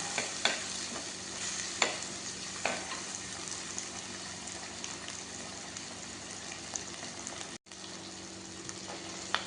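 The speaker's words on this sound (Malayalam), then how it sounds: "ഈ പച്ചമുളകും തക്കാളി വെളുത്തുള്ളി ചുവന്നുള്ളി ഇഞ്ചി നന്നായി ഒന്ന് വഴന്ന് വരുമ്പോൾ" Chopped green chilies, tomato, garlic, shallots and ginger sauté in a pan for a sardine curry, giving a low, steady sizzle with occasional scraping stirs, and the sound cuts out briefly near the end.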